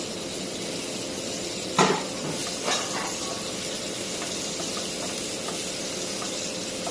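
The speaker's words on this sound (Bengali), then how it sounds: "বেশি লাল করে ভাজবো না, হালকা একটু ভাজলাম" Steady hissing sizzle of chepa dried fish frying lightly in a pan, continuous and fairly loud, with a couple of brief clatters early on.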